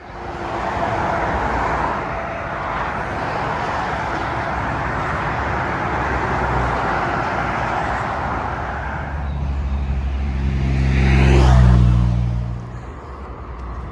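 Steady road traffic rumbles and hisses near a motorway by Stoke Orchard in the Cotswolds, loud and continuous, with one vehicle swelling close by and roaring past near the end.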